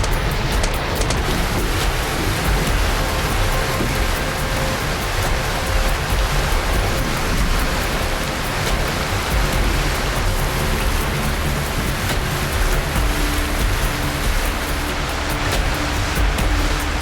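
Heavy rain pours down steadily in the Sonoran Desert, a dense, continuous hiss of water drumming on surfaces throughout, with no voices.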